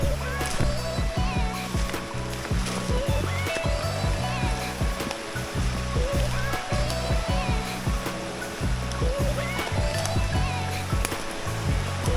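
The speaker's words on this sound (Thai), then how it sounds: "จะได้บรรยากาศน้ำตก" Rushing water of a forest waterfall at Khao Soi Dao pours steadily nearby, a continuous broadband roar with splashing textures and occasional low knocks mixed in.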